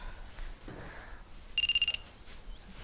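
A telephone rings with a short electronic trill, a rapid pulsing burst lasting under half a second, clear and close over a quiet indoor background.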